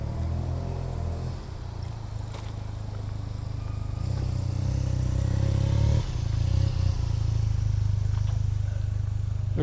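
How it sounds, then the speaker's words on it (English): A small, heavily loaded motorbike passes on a Tokyo street, its mid-pitched engine hum swelling louder over several seconds amid steady urban traffic noise and a few clattering bumps. "He's got a lot of stuff on his motorbike."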